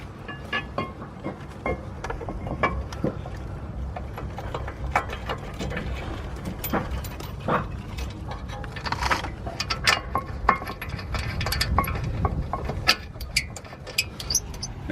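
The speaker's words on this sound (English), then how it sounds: "reinstall the bracket with these two 18mm bolts" Wrench work refitting a brake bracket with two 18mm bolts on a BMW during an MTEC brake install: scattered metallic clicks and ratcheting taps, close and moderately quiet, irregular over a low background hum.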